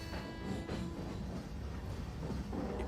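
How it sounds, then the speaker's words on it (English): Indian passenger express train in a simulator game pulling away from a station, a steady rumbling rail roll with faint clickety-clack, moderately loud and continuous with no talk. "Finally, our train is moving."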